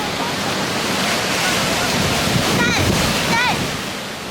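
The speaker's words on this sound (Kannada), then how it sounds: "ಎಷ್ಟು ದೊಡ್ಡ ದೊಡ್ಡ ಅಲೆಗಳು ಬರುತ್ತೆ ನೋಡಿ" Big ocean waves roll in and break on the shore, a steady wash of surf close by under wind buffeting the microphone, with a couple of short chirpy sounds near the end.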